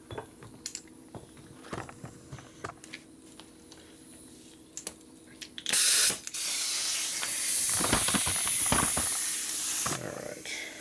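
A spray can hisses loudly under the muffler of a Harley Sportster, a sustained burst of several seconds after light clicks and taps, close by, with a brief spoken voice.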